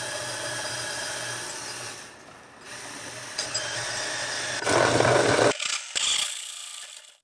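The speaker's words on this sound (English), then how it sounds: "Make sure you drill on wood." A power drill whirs steadily, dips briefly, then bites into wood with a harsher grinding burst, cutting a 2-inch hole, before stopping abruptly.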